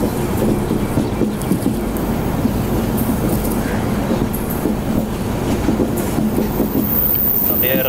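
Trivandrum Rajdhani Express rolling along rails on the Konkan route toward the Kalyan line, a steady loud rumble with continuous clickety-clack of wheels throughout.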